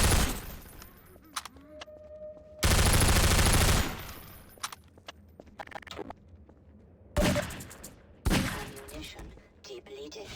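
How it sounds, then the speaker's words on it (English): Bursts of gunfire from a weapon in Half-Life 2 RTX ring out in loud, dense volleys, separated by quieter stretches with scattered clicks, thumps and a talking voice. "I don't like the new sound of this gun."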